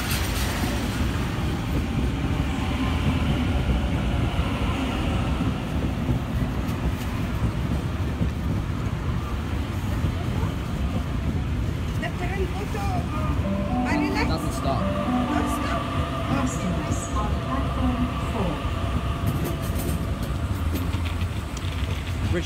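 Sydney Trains Tangara set on a Richmond service passing platform 4 at Flemington station, a steady rumbling roar with rattling wheel and carriage noise throughout, fairly close, with a voice heard faintly in the background.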